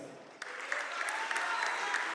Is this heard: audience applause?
yes